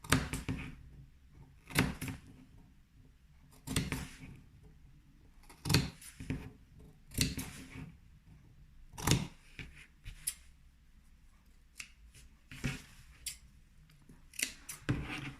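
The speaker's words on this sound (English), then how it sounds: "so I'm going to clip these corners" Sharp scissors snip V-shaped notches into the fabric corners of a lined messenger bag, giving a series of crisp, close cuts spaced every second or two against a quiet background, with no speech.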